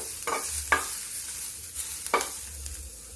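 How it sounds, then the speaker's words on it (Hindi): Ingredients briefly sautéed in a pan before tomatoes go in, a continuous soft sizzle with a few distinct scraping strokes of a spoon stirring. "इसको भून लेते हैं थोड़ा सा, ज्यादा नहीं भूनना"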